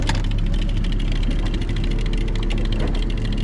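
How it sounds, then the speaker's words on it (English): A project fishing boat's engine idles steadily and loudly nearby, a constant rumbling drone running throughout with no break. "You want me to kill the engine?"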